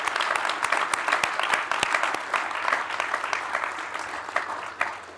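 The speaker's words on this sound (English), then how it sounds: "Let's give Lord Hastings a round of applause." Student forum audience applauds Lord Hastings with a full, crackling round of clapping, many distinct sharp claps over a dense bed, holding strong before thinning slightly toward the end.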